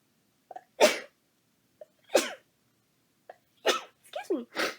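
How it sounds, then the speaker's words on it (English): A person sneezing several times in a quiet room, each sneeze preceded by a short sharp inhale, a sequence of three or four distinct bursts spaced over a few seconds, close to the microphone. "Hold on, I have to sneeze."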